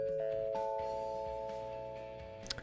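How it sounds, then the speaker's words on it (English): A school bell chimes across campus to signal an announcement, sustained ringing tones holding steady at a moderate distance with a faint click near the end. "The bell signaling a campus-wide announcement rang as I considered my loss"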